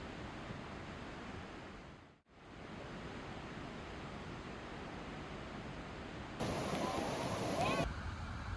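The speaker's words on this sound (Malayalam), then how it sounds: "പക്ഷെ അടുത്ത് ചെല്ലുമ്പോൾ നല്ല പവർഫുള്ളായിട്ടുള്ളൊരു വെള്ളച്ചാട്ടമാണ്" Athirappally Waterfalls in monsoon flood pours with a powerful, steady roar of rushing water. The roar is broad and continuous, cuts out briefly once, then returns slightly louder near the end.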